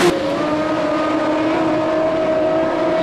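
A dirt-track race car at Ohsweken Speedway pulls away again after spinning, its engine droning steadily in a loud, continuous roar with a sustained tone and no pauses.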